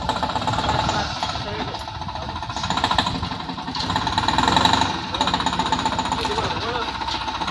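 A tractor engine runs close by with a rough, rapid knocking chug that swells and eases over several seconds, loud and continuous, with people talking over it.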